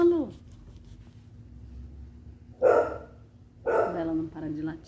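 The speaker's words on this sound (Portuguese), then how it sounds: "Ela não para de latir." A pet dog barks in short bursts inside a home, two or three sharp barks close by with quiet gaps between them, while a voice talks nearby.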